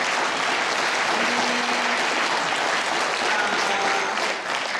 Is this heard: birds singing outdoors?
no